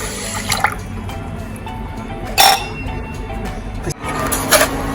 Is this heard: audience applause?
no